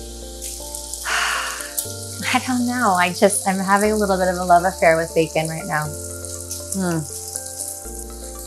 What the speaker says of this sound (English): Ooh, love that sizzle.